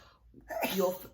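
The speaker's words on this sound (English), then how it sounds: "bless you again" A single sneeze bursts out midway after a quiet start, fairly close and moderately loud.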